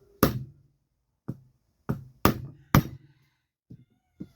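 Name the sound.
gently tapping a 1950s Swiss Monti spinning reel part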